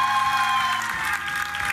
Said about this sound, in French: Applaudissements pour Aurélie, s'il vous plaît.